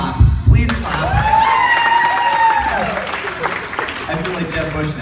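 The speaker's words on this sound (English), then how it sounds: "Please clap. Please clap." Wedding guests clapping during a toast to the couple, a sustained wash of applause running under a held musical tone and some voices, moderately loud throughout.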